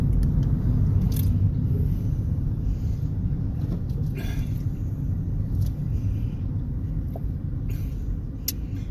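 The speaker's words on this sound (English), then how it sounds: "Traffic jam." Steady low rumble of cars idling and creeping in a traffic jam on a road past Kualoa Ranch toward Kaneohe, heard from inside a vehicle, constant and close with a few faint clicks and no talking.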